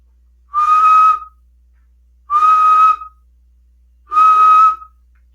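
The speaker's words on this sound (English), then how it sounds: "then I'm going to blow whistle." Whistle blown into a Uniden Bearcat 980SSB CB radio microphone, three clear, loud, steady tones of under a second each, evenly spaced with silence between them.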